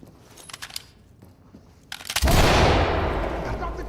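Flashbang grenade going off during a police raid in a video game roleplay, a sudden loud blast after some faint clicks and movement, followed by a sustained roaring ring-out.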